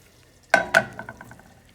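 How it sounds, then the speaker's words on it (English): Breadcrumbs tipped into melted butter in a pan for homemade mac and cheese, two sharp close hits followed by a short fading sizzle, with no talk. "now we want to put some breadcrumbs in the melted butter we have back here"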